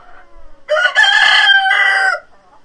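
A rooster crows once in a chicken coop, a loud, close, drawn-out cock-a-doodle-doo lasting about a second and a half, with faint clucking before and after.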